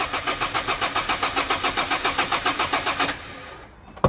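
A diesel car engine cranks rapidly in an even rhythmic churn for about three seconds without catching, then stops, followed by a brief click.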